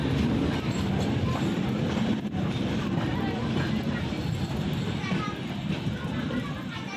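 A passenger train on the Vizag to Araku line runs through a series of tunnels with a steady loud rumble and rolling clatter, while passengers' voices and children's shouts carry faintly over the noise.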